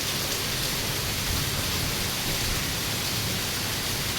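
Heavy monsoon rain pours steadily while water cascades off a building like a small waterfall, a dense, loud, unbroken roar with no voices.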